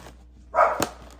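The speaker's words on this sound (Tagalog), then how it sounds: "Ay, nag-ano yung aso ko, nagtahol." A pet dog at home lets out a short, sharp bark, a single loud close yap against a quiet room.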